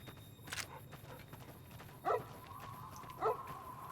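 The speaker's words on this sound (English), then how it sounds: "Keep it down, dog." A dog barks a few times in Fallout: New Vegas: sharp, separate yelps come at a distance over a low, steady game background, with no speech.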